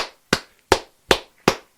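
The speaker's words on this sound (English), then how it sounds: "So let's give him a clap" Four sharp, evenly spaced claps in a slow steady rhythm, close and distinct with quiet gaps between them, given as birthday applause.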